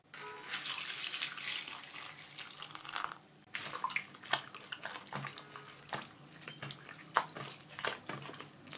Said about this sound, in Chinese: 我们把紫菜放到盆子中，给它清洗一下，去除一下紫菜大海的味道。